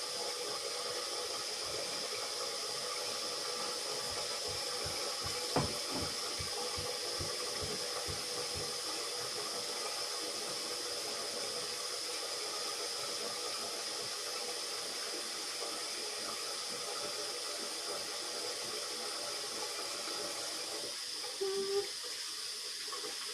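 Very hot water runs steadily from a tap in a home bathroom, a constant broad hiss filling the whole stretch at even loudness, with a few faint clicks and knocks near the start and end.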